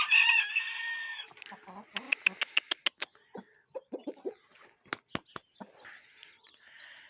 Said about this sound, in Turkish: şöyle bir provalık bir horoz getirdi arkadaş